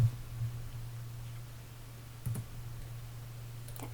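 A few crisp, quiet mouse clicks sound during Premiere Pro editing on a computer, with a couple of light taps spaced over a low steady hum and no voice.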